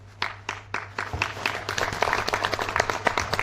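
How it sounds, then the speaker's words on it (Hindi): Applause from a seminar audience in a hall: scattered claps start, then quickly thicken into dense, lively clapping over a steady low hum, with no voices standing out. "एक बार जोरदार तालियां बजा सकते हैं।"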